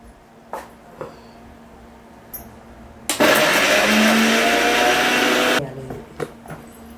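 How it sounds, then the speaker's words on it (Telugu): An electric mixie grinder grinds cumin and fenugreek for a Telangana-style fish curry, letting out one loud, steady whirring burst of a few seconds, with faint clicks and knocks before and after it. "ఇది ఇప్పుడైతే అమ్మ మిక్సీ పట్టుకొని వస్తుంది"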